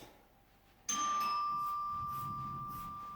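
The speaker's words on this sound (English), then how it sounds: "I had a doorbell ring there" A doorbell rings once indoors, a single sharp electronic chime that sustains and slowly fades, heard alone after near silence.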